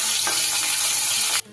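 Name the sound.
vangor fish frying in oil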